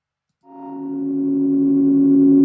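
A single sustained synthesizer tone swells in after a brief silence, holding steady and slowly growing louder, playing chords beneath a melody in Ableton.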